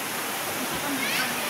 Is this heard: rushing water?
yes